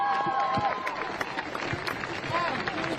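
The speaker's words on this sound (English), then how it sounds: "let's give her a round of applause as she comes" Crowd applause and cheering at a street protest, steady clapping and voices throughout as a singer is welcomed, with talk over the noise.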